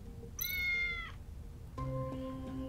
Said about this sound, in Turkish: Burada saklanan bir kedi çıktı.